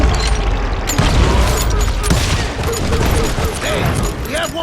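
Gunfire in the Western shooter Call of Juarez: Gunslinger, dense overlapping shots and booms in a sustained loud fusillade, with faint voices mixed beneath the barrage.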